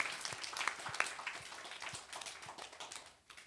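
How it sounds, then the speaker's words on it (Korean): A church congregation claps in praise during a Korean sermon, a scattered, fairly faint patter of hands that carries steadily for a few seconds and thins out toward the end, with no talk over it. "하나님께 영광의 박수 올리겠습니다."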